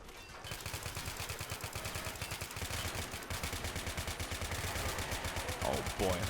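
Sustained rapid bursts from an M240 machine gun in a zombie video game, steady rattling fire running nearly the whole stretch at close range, joined by other gunfire and clatter that grows slightly louder toward the end.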